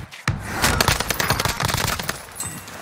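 Rapid automatic gunfire in Call of Duty Warzone from an M13 rifle, dense overlapping bursts rattling loud and close for nearly three seconds with little pause.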